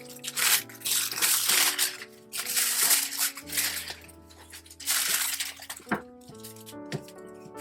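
A packaged Sorcinelli pipe box being unwrapped, with crinkly rustling bursts of wrapping and a few soft knocks, close and fairly quiet, with no talking.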